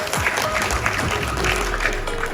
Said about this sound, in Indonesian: Tepuk tangan untuk Kalipang